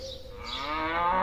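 A single cow gives a long, loud moo that swells and holds for about a second, close by and alone.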